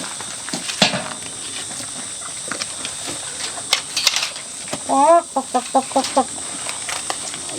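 Hens cluck in a chicken forage yard on a permaculture farm, with scattered clucks and rustling, then a quick run of rhythmic, close clucking calls over faint outdoor background noise.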